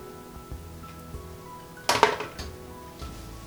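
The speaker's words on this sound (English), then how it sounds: "I can just go ahead and tip that straight into the Sag Aloo" Wilted spinach tipped from a pan into a pan of Sag Aloo, with a single sharp metallic clatter and scrape of cookware midway, then quiet kitchen rustling.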